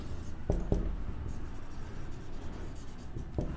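Soft scratching of writing on a board or paper during a maths lesson, with a few sharper taps of the pen or chalk against a constant background hiss.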